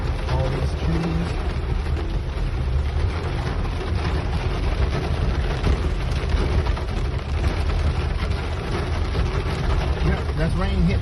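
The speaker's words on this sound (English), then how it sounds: "Yep, that's rain hitting the top of the truck" Rain drums on the roof of a truck driving through a rainy, tree-lined section of road: a loud, dense, continuous patter blended with steady road and engine rumble throughout.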